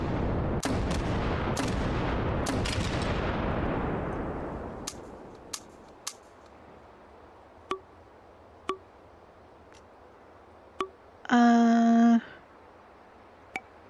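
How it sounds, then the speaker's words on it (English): Fireworks crackle and boom in a dense burst that fades out, followed by scattered single sharp pops at intervals and a brief tonal whistle or squeal near the end, heard from a distance with no talking. "Firework."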